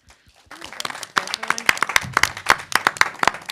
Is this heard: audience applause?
yes